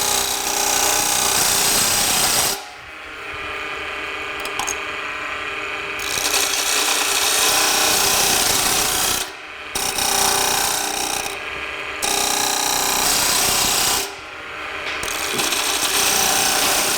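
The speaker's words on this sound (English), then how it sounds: "we're again just going to make a peeling cut" A peeling cut on a shop-made wood lathe spindle chuck makes a loud, continuous rasping scrape as the tool shaves wood. It stops briefly several times and then resumes, over the lathe's steady mechanical whir.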